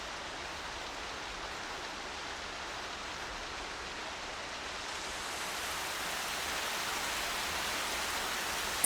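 Steady rain from the video game Horizon Zero Dawn hisses as a dense, even wash of falling water, growing slightly louder and fuller partway through, with no voices.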